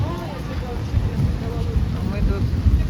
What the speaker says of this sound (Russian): Вот нас дождик и накрыл.